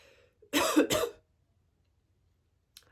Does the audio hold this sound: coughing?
yes